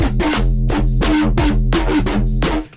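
A deep, punchy synthesizer bass preset in Vital pulses in a repeating rhythmic pattern, loud and close, with bright filtered attacks on each beat.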